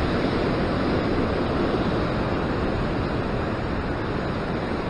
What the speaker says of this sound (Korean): 너울성 파도가 큰 게 왔어.